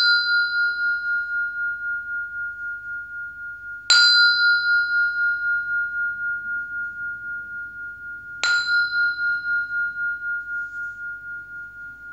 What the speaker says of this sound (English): I'll sound the bell to do the purification.